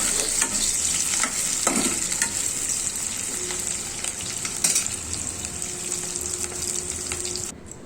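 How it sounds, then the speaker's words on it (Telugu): Onions deep frying in oil for chicken dum biryani, a steady, loud, close hiss of bubbling oil that runs without pause, with occasional stirring clicks and no voices. "బాగా డీప్ ఫ్రై చేయాలండి, బ్రౌన్ కలర్ రావాలి ఆనియన్స్ అనేవి"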